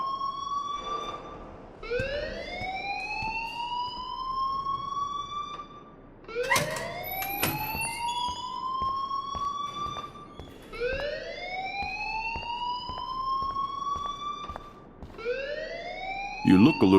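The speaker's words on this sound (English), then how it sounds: "please turn off that alarm since that's your job" A rising-and-falling siren-like alarm wails repeatedly in Life Is Strange, sweeping upward in long cycles of about four seconds, loud and continuous, with speech underneath.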